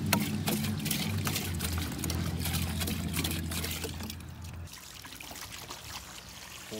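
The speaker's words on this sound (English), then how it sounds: "Pour it into the old backpack sprayer." Ocean Solution fertilizer mixed with water pours into a backpack sprayer, a continuous gurgling trickle of liquid up close that thins out and softens toward the end, with no talk.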